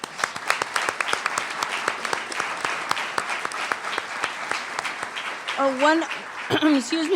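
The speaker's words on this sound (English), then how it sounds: "So let's give them a round of applause." An audience at a closing ceremony honoring a community figure breaks into sustained applause, dense steady clapping throughout, with a voice speaking briefly over it near the end.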